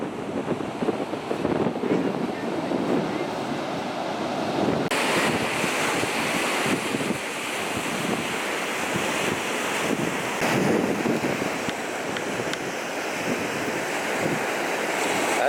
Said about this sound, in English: how strong the surf is